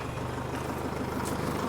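A 4J engine pulled from a crashed 60 Series LandCruiser runs at a steady idle, a gruff, rhythmic low chug like a small truck, close up and alone.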